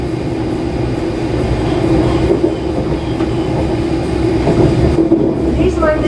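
A Class 385 electric train runs a fast service from Glasgow Central to Wemyss Bay, heard from on board as a steady, loud rolling rumble with faint rail clatter throughout.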